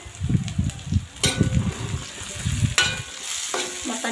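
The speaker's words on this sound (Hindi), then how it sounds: "मसाले को मिला देंगे," Spices being stirred and mixed in a hot pan, with repeated low scraping strokes of a spoon in a loose rhythm over a constant sizzle, plus a couple of sharper clinks.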